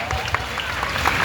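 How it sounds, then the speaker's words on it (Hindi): A crowd applauding at a Ganesh Chaturthi aarti, dense clapping at steady volume through the whole short stretch. "तालियों में कंजूसी नहीं, सब ताली बजाते रहेंगे।"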